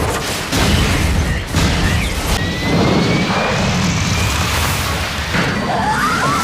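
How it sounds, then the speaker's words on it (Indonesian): An airplane explodes in a loud, roaring rumble with crashing bursts, dense low booming that continues throughout, with a faint high whistle streaking across. "akhirnya pesawat pun meledak"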